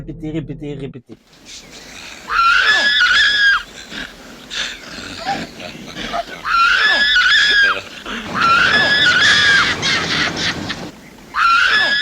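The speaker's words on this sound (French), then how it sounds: "c'est un cri enregistré qui a été répété" A single recorded scream from the slasher film Home Sweet Home plays several times over, shrill, wavering cries in close succession separated by short gaps, with a voice talking briefly at the start.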